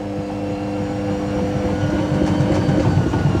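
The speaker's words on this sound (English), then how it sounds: "it's spinning an unbalanced load" A Samsung EcoBubble WF80F5E2W4W washing machine spins an unbalanced load with a steady low rumble and whining hum, its thumping and rattling building louder toward the end, with no talk.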